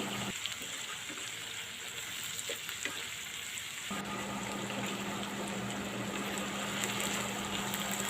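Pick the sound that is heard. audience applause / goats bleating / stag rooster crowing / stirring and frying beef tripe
stirring and frying beef tripe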